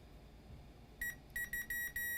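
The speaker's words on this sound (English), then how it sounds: "Meter in continuity mode." A multimeter in continuity mode beeps during a test of an iPad backlight filter, giving several short, clear electronic tones in an irregular series, each cut off quickly, in a quiet room.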